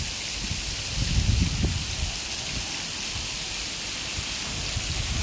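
Steady rain falls as a constant soft hiss, evenly spread and moderately loud, with a slight surge early on and no voices.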